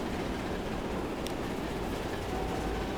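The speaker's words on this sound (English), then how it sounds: "That train is about to come barreling through Earley" Train rumbling past in the rail-building game Transport Fever 2, a steady, fairly quiet wash of rolling noise and rail clatter that holds constant throughout, with no speech.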